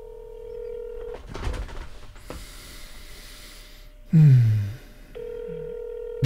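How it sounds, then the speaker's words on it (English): A phone call: a steady dial tone, then a quick run of touch-tone dialing beeps, a pause, and a ringback tone that repeats, all clear and close with no talking. "Let's see if he's going to answer the phone."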